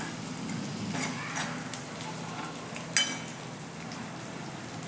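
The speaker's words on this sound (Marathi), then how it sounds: "शेंगदाण्याचे कूट तेलातच तळून घ्या" Crushed peanuts frying in hot oil over medium heat for a Maharashtrian pitla, a soft, steady sizzle and crackle throughout with one brief louder pop near the end.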